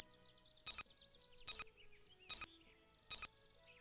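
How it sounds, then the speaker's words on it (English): Compact sonar wall-detection cue from the BK3 video game: four short, bright, clicky bursts spaced evenly about a second apart, crisp and isolated against near silence. "If the sonar detects a wall, it makes a sound like this."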